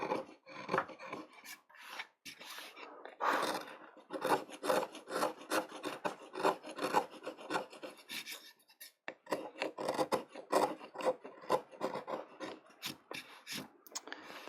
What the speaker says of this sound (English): So first thing to do here is get rid of all the scratches and ridges from those chisel strokes.